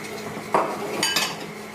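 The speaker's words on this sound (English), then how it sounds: "I'm going to continue mixing." Utensils clink and scrape in a bowl as eggs are mixed into creamed butter and sugar for gingerbread batter, producing a few close metallic taps and a brief ringing scrape with no speech.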